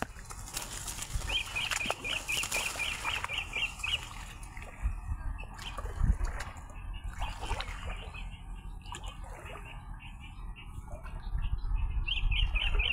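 Small birds call in a mangrove grassland, giving quick trilled chirps in short runs early on and again at the end over a constant rushing outdoor background, with no voices.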